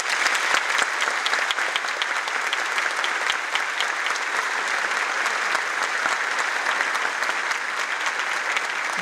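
Dense, sustained applause from a congress audience after a lecture, many hands clapping steadily at an even level throughout, filling the room without a break and with no voices standing out.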